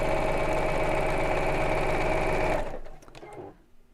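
A sewing machine stitches ready-made piping onto a bolster cushion cover, running in a steady fast rhythmic chatter for about two and a half seconds before stopping, followed by a few faint handling clicks.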